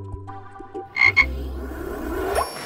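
A cartoonish frog croak sound effect for a homemade craft frog in a children's craft show: a short pair of bright croaks, then a low rumbling croak with a rising squeak at the end, with no talk.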